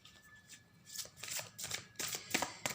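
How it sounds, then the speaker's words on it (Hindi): A tarot card deck is shuffled by hand in quick riffling, papery bursts, close and fairly soft, with no talking over it. "चलिए हम इस डेक से भी कार्ड ले लेते हैं।"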